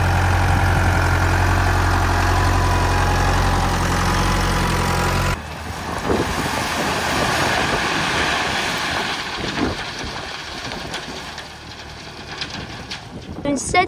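A vehicle engine idles and rumbles steadily as it drives down to tip dug-up soil on a site worked with Takeuchi and Kubota diggers, heavy and continuous at first, then lighter with wind and rustling, under talk.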